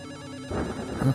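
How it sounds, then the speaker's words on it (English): A telephone rings in the video game Return to Shironagasu Island, a short electronic ringtone burst at close range with no talking. "Another phone call."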